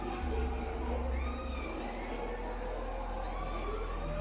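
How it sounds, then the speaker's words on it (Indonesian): Faint, eerie, wavering howling like a dog, played back from a YouTube video under a low background rumble, drawn-out and distant-sounding. "Jadi kayak ada suara anjing ngelong-long gitu."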